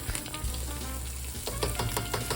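Onions and garlic fry in rendered bacon with a dense, steady sizzle and crackle up close, with occasional stirring noises breaking through.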